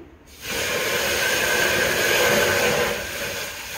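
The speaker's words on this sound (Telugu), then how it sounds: "వేడిగా ఉన్న దాంట్లో వాటర్ పోసాం కదా," Water poured into a hot pan of washed lentils bursts into a loud, steady hiss and sizzle that swells after a brief quiet start and holds for a few seconds before easing slightly, with no talking over it.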